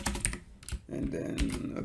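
Keys clacking on a computer keyboard as a docker build command is entered, ending with a press of the enter key; short, close, fairly quiet tapping.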